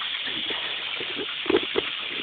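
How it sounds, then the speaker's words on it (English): Water gushes steadily into a garden pond as it fills, a continuous broadband hiss and splash with a few louder splashes near the end, heard alone. "While the pond's filling up"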